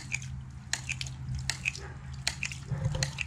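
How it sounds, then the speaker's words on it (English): A hydraulic ram pump knocks with its water hammer, giving soft, regular thuds and drip-like clicks roughly every three-quarters of a second over a low steady hum. "Water hammer is still pretty low."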